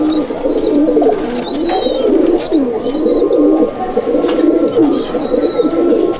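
Adult breeding pigeons coo steadily in a loft, their low rolling calls overlapping throughout, with thin chirps above from other birds and no talking.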